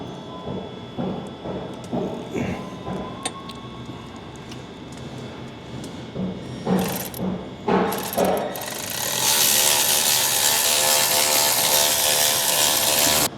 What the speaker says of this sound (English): now we're just tightening the hose clamp at the turbo